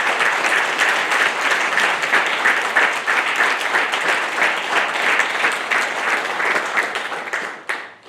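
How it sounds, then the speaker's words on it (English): A crowd of families and friends applauds the Navy's newest third class petty officers at a Nuclear Field A School graduation ceremony, with loud, dense, continuous clapping that holds steady for several seconds before fading out at the end. "please join me in a round of applause for the Navy's newest 3rd Class Petty Officers"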